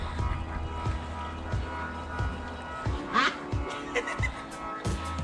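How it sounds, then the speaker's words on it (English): A Pekin duck gives a few loud, raspy quacks close by, over a steady low rhythmic engine-like thrum. "Big quack."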